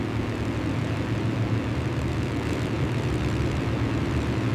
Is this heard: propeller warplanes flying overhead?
yes